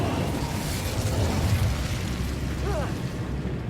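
An Incendio fire spell blast in Hogwarts Legacy, heard as a loud, sustained roaring whoosh of flame lasting several seconds with a faint chime near the end.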